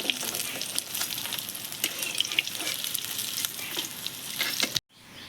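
Rohu fish pieces fry in hot oil, giving a steady, close crackling sizzle with scattered sharp pops before it cuts off abruptly near the end.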